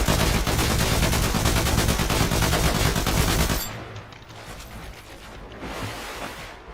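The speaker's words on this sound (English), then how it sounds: "Why is this guy shooting?" Rapid bursts of gunfire rattle loudly and continuously for about three and a half seconds, then cut off, leaving a quieter, fainter background.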